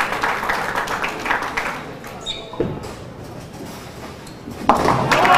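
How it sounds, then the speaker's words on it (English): Crowd applause at the 2018 World Youth Bowling Championships boys singles, bursts of clapping that swell and fade, then rise sharply again at the end. "As you can hear, we got a nice crowd today"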